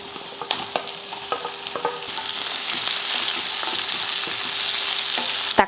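Onion, garlic and tomato sautéing in a pan, scattered scraping stirs and clicks at first giving way to a steady, building sizzle, close and alone without talk.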